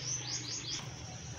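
Birds chirp among flowers and roses outdoors, a quick run of four high, close tweets followed by quieter calls over a steady low background hum.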